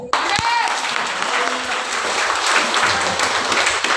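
Congregation clapping in praise during a Hindi church service, a loud, dense burst of applause that starts abruptly and holds steady, with a voice briefly rising over it at the start.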